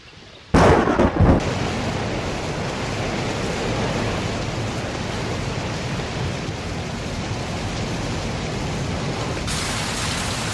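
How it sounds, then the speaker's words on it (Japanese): Heavy thunderstorm with pouring rain: a sudden loud thunder crack near the start, then a steady dense roar of rain that continues to the end. "ひどい嵐だわ。"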